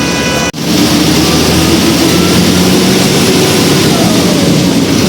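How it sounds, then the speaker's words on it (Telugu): A Tirumala bus's diesel engine gives a loud, steady droning rumble heard from close by, with a brief dropout near the start. "డీజిల్ ఇంజన్ సౌండ్ దాని కథ వేరు"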